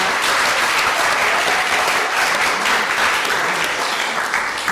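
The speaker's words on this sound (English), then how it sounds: "that's worth a round of applause" Audience at a career event on international relations breaks into steady, dense applause that holds evenly for about five seconds, filling the room with clapping and a few faint voices mixed in.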